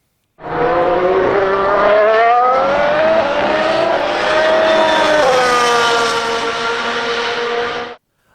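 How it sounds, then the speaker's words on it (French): Formula 1 race cars at a race start, heard as a loud, sustained engine roar with rising and shifting pitch that holds for about seven seconds before cutting off abruptly, with no talking over it. "démarrez vos moteurs. C'est un départ."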